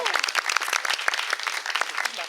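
A studio audience at an evening game show applauds the host's assistant, a close, lively burst of dense clapping that stays strong throughout with no talk over it.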